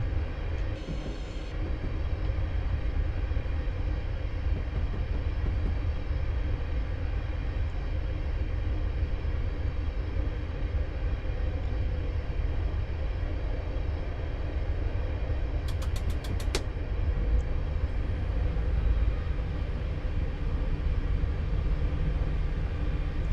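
A simulated train in Train Sim World rumbles steadily along the Settle to Carlisle line toward Dent, a constant low wheel-and-engine drone with a brief sharp click near the end and no talk.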